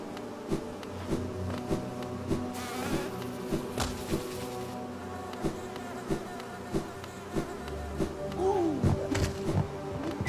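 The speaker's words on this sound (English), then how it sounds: "Try to get past these guys before they create too many bees." Bees buzz continuously in the video game Hollow Knight, a droning insect hum under repeated sharp thuds and clicks from the gameplay.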